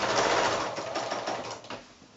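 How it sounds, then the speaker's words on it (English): A sewing machine stitches quilt binding in a fast, steady whirring run of needle strokes, close and fairly loud, easing slightly as it slows near the end, with no voices. "I'm going to stitch right the way down till I get onto the bit that I've just folded up"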